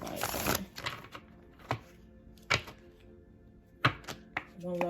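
Tarot cards being shuffled during a fire-sign reading, giving several short, sharp riffling bursts spaced irregularly, fairly close and clear, with a voice speaking at times between them.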